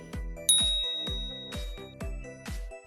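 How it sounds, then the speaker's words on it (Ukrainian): Repeated school bell dings ringing out in a steady rhythm, about six bright struck tones with ringing decay, clear and fairly close with no talk. "Ось до класу всіх скликає голосистий цей дзвінок."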